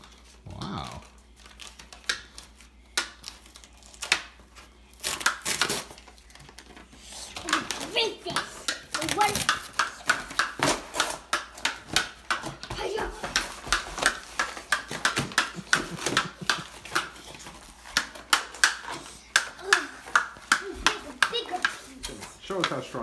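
Two children tearing a cardboard box into pieces, with repeated sharp ripping and crinkling bursts that grow denser and more continuous, close by, while children and an adult talk over it.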